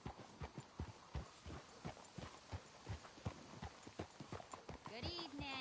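Horse hooves clip-clop at a steady walking pace in Red Dead Redemption 2, several horses stepping close by, with a brief voice near the end.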